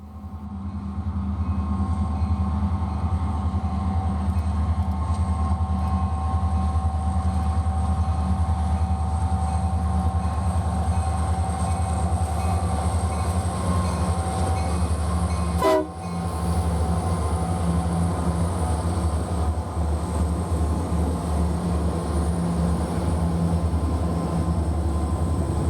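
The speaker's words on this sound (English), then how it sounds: "Fog looms over Spear Junction as the Local 60 climbs its way up the hill with 3" Freight train on a hill climb led by three SD70M locomotives in fog at Spear Junction near Cheyenne, Wyoming, a steady loud diesel drone with rail rumble throughout and a brief sharper burst midway, no voices.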